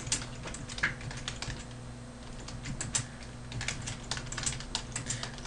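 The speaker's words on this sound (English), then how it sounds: "we'll type in the text." Fingers type text on a computer keyboard for a school computer concepts assignment, a steady run of close, light plastic key clicks with small pauses, with no voices.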